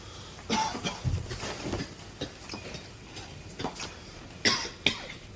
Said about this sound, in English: Damn this cough.